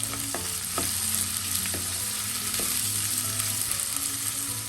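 Small onions sautéing in a pan, a continuous close frying sizzle with a few sharp spoon taps and stirring scrapes against the pan, no talking.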